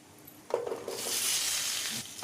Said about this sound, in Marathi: भेंडी पण चांगली फ्राय करून घ्यायची थोडी